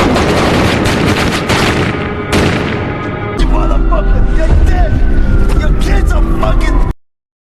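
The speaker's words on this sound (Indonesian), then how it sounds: "Jojo harus tewas di berondong peluru yang diarahkan padanya" A burst of film gunfire as police shoot a man named Jojo: sharp rapid shots and loud, dense crackling mixed with siren-like tones and a soundtrack, the barrage intensifying in the second half before stopping abruptly.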